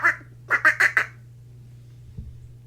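A duck sound effect plays during a stream, first one quack, then a quick run of three loud, close quacks, followed by a faint low hum and a soft thud.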